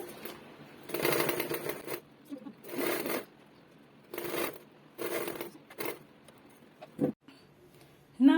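A sewing machine stitches a turban band onto its base in several short bursts, each a second or so long, separated by pauses and small handling clicks.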